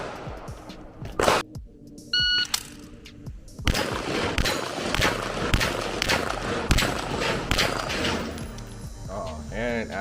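Rapid gunshots from a Palmetto State Armory AK-V 9mm carbine fired at steel plates, sharp repeated cracks in uneven bursts with metallic plate hits, loud and close, some faint talk in the background.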